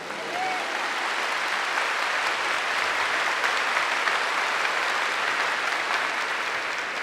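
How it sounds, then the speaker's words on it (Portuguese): A church congregation claps in thanksgiving, a thick, continuous round of applause from many hands, loud and steady from start to finish with no talking over it. "So Lord, so give them a big clap of thanksgiving"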